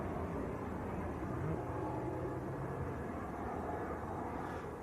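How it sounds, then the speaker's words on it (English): A Boeing 737-300 jet taxis out at Manchester Airport, its engines a faint, steady low rumble and whine heard from a distance. "Also the little 300 series 737 to Leeds Bradford just taxiing out as well at the moment."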